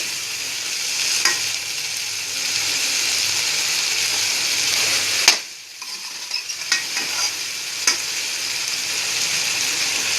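Vegetable fried rice with potatoes sizzles steadily in a hot pan, with a broad frying hiss and occasional scrapes and clinks of stirring, briefly dipping as the food is turned.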